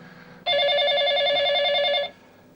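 A telephone rings once with a single continuous electronic trill lasting about a second and a half, steady and fairly loud over a quiet room background.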